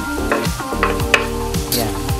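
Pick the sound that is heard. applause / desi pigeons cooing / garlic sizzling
garlic sizzling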